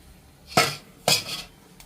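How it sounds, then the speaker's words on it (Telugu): A metal pan is set down on a stove with two quick clanks about half a second apart, close and moderately loud, followed by quiet. "ఒక్క స్టవ్ పైన అండి పాన్ పెట్టి ఇందులో ఒక మూడు గంటలు ఆయిల్ వేసుకోవాలండి"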